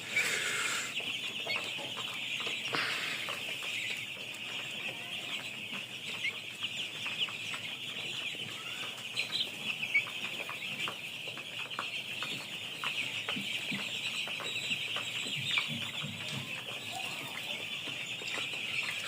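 A flock of seven-day-old broiler chickens on a farm keeps up a dense, continuous chorus of peeping and clucking, steady and close throughout with no voices.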